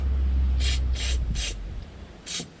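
Contact cleaner sprays into an electrical connector on a 6x6 Perentie ambulance in four short hissing bursts, three quick ones then a final one, close up over a low engine hum.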